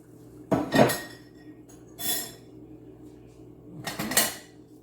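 Dry macaroni rattles and clatters into a metal pot of boiling water in three bursts, with a steady low rumble underneath.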